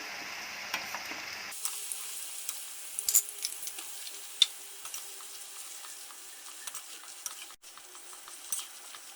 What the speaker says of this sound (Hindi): और प्याज थोड़े थोड़े करके इनको डालेंगे और डीप फ्राई करेंगे।